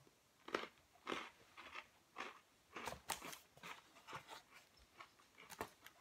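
Crisp, repeated crunches from bites into a thin, crispy Choco Leibniz biscuit with a thick chocolate topping, about ten sharp close-up snaps in an uneven chewing rhythm with no voices.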